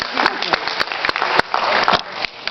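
Applause at a county board meeting: a short burst of scattered hand claps from a small crowd, uneven and brief, with some voices mixed in.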